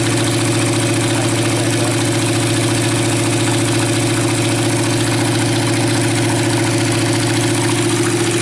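A motorcycle engine idles steadily and loudly, a continuous low rumble with an even throb and no other sounds.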